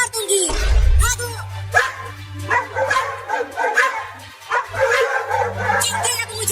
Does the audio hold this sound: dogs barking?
yes